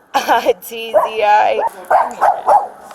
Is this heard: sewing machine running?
no